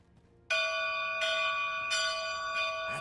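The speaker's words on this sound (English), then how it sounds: "All that remains is to ring the bell." A large bell tolls in the video game Dragon's Dogma 2, striking loudly four times at a steady rhythm, each ringing tone sustaining into the next over a quiet background.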